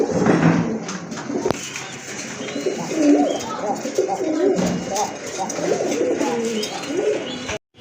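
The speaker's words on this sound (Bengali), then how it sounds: "মাশাআল্লাহ এখানে আরেক জোড়া কবুতর দেখতে পাচ্ছেন, রাজগোল্লা কবুতর।" A pair of Rajgolla pigeons coo in low, continuous murmurs at close range, with other birds calling faintly around them and a person talking over them.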